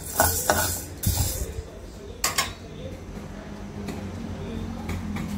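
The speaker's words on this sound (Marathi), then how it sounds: "गहू सुद्धा खमंग परतून घ्यायचे।" Whole wheat grains dry-roasting in a pan over a low flame, stirred with scraping clicks and soft rattling in the pan's base. A couple of sharper clanks stand out over a low, steady background rustle.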